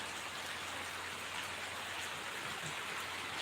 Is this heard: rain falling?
yes